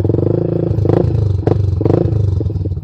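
A motorcycle engine fitted with a WRX K2 GP aftermarket exhaust idles with a deep, bassy, throbbing note, rumbling loudly up close, with a few brief throttle blips.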